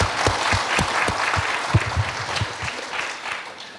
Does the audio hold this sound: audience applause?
yes